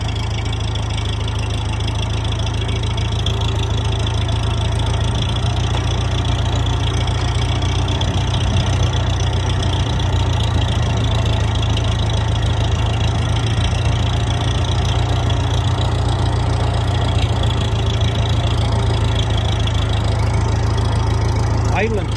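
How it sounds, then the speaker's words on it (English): A tractor engine idles during firewood logging in the woods, holding a steady, loud, low rumbling drone with a faint mechanical tick that continues unchanged for over twenty seconds. "Pretty much I've been idling the whole time"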